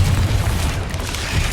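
Bombarda spell explosion in Hogwarts Legacy, a loud, heavy low boom that rumbles steadily for over a second amid dense game noise, with no speech.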